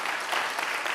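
A congregation at a Friday night church meeting breaks into dense, continuous applause, a brief full wash of clapping heard close and loud.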